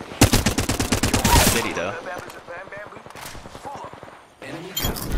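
Rapid automatic rifle fire in the Apex Legends shooter, a Flatline in single-fire mode, cracks in a fast, dense burst up front, then thinner shots trail off as a player talks excitedly over the action.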